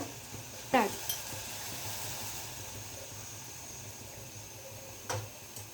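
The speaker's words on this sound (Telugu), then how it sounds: "సన్నటి సెగ మీద 5 నిమిషాలు వేపండి." Mushrooms frying over low heat, a faint, even sizzle with a couple of brief scraping stirs near the start and end, quiet and close.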